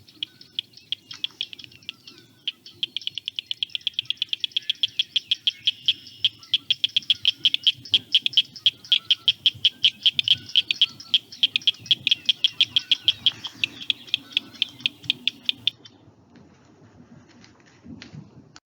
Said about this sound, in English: This is the Blanchard's cricket frog.